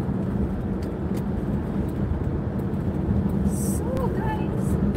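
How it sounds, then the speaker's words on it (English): Steady broadband road and engine noise from a car driving, constant and fairly loud throughout, with a few faint chirps near the end. "So guys, you see me driving?"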